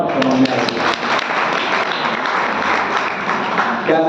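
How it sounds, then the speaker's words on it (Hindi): An audience at a Hindi-language sermon by a Jain monk claps in a loud, sustained burst of applause that fills the whole stretch without pause. "ताली तो बजाओ, समझ में आएगी।"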